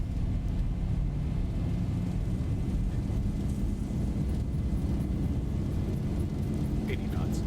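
Boeing 737 jet engines held at full takeoff throttle in the X-Plane 11 flight simulator, a steady, loud, dense low roar that runs unbroken from start to finish with faint higher whine on top.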